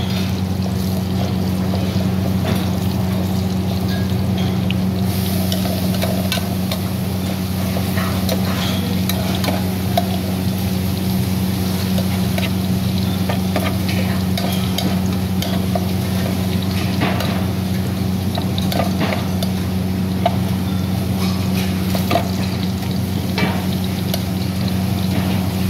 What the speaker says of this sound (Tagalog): Lutuin natin ng maigi ang ating bawang at saka tinitin habang iniluta para lumabas yung kanyang aroma